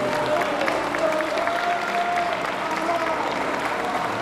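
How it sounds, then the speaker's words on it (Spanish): Crowd applause in an arena for an archer at a Spanish national compound bow gold final, a steady even wash of clapping throughout with a faint tonal murmur underneath. "Fuerte, muy fuerte el aplauso para José Ignacio Catalán Gil."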